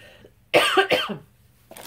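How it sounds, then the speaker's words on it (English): Two or three harsh, close coughs in a quick burst, then a short quiet pause before another faint one starts. "I had to pause to cough, and now here I am back coughing"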